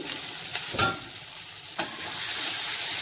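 Spices with Kashmiri chili powder frying in a little oil for a vegetarian gathi kochu (taro) dish: a steady soft sizzle with two sharp stirring scrapes, close and alone.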